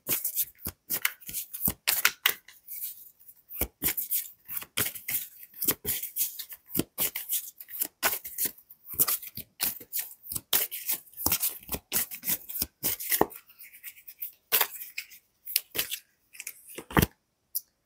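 Oracle cards are shuffled by hand in a long series of quick, crisp riffling and slapping bursts with short pauses between them, close and clear, with no voice.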